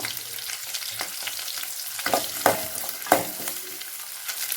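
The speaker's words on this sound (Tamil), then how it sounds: "வெங்காயத்தை நல்லா வணக்கிக்கலாம் இதில் பூண்டு கொஞ்சம் சேர்த்துக்கலாம்" Onions and garlic sauté in a pan with curry leaves for a fenugreek-leaf tamarind curry, a steady close sizzle broken by several sharp scraping stirs of the spoon, with no talking.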